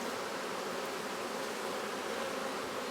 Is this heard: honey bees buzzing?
yes